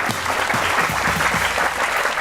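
A studio audience at a Pakistani comedy talk show claps continuously, dense and steady throughout, welcoming guests on stage.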